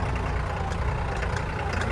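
Tractor engine running steadily on a rough mountain road in Ladakh, a dense low rumble with constant loud drone and no talk.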